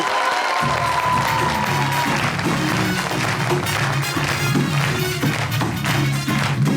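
Loud, continuous applause from an Eid special show audience for a performer, with steady clapping and crowd noise under music that begins after the first half-second.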